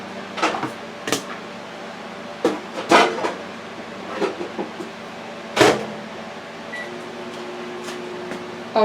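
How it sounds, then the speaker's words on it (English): Kitchen clatter of a microwave oven door and buttons, with scattered clicks and knocks, then a low steady hum as the oven starts running to melt a stick of butter. "I'm going to melt the butter in the microwave."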